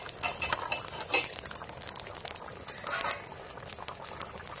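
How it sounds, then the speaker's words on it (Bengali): Thin rohu fish curry with cauliflower bubbles in an uncovered pot, a soft steady simmering patter with light clinks of utensils nearby and no talk. "কত সুন্দর ফুটছে দেখুন।"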